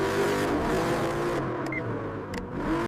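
A Chevrolet C8 Corvette accelerates hard, its engine note holding loud and steady before climbing again near the end, with no talk.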